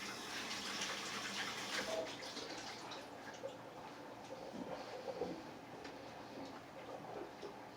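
Faint, steady running water pours down a kitchen drain during rinsing, a soft continuous wash with small splashes and no voices.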